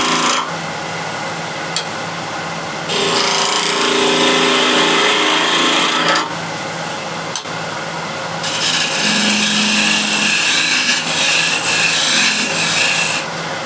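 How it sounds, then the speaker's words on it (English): Skew chisel cleaning up a round wood blank spinning on a lathe, a steady close scraping rasp that runs in long alternating passes, with brief quieter gaps between strokes. "I'll use a skew just to clean it up a little bit."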